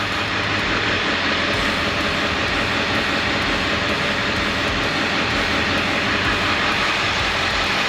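A 7.3 Powerstroke diesel truck engine with a P1211 fault code and power loss idles with a loud, unbroken droning rumble that holds steady from start to finish, and no one speaks.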